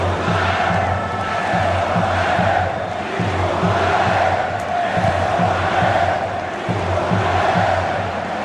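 A dense stadium crowd at a Bosnia and Herzegovina versus Italy European Qualifier football match in Zenica roars and chants continuously, loud and sustained, with rhythmic chanting pulses throughout.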